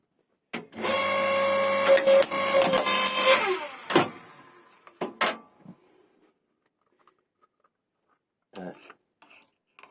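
A log splitter converted into a forge press squashes a brass door handle: a steady, loud hydraulic whine with grinding crackle for about three seconds, then a few sharp cracks and knocks before near silence and faint clicks.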